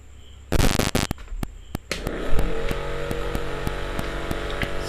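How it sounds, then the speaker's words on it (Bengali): A homemade rechargeable fan with a three-blade motor, powered through a power bank module, starts with a burst of rapid clicks and rattles, then settles into a steady, close motor whine with faint regular ticking. "এবার দেখবো অন করে ফ্যানটি"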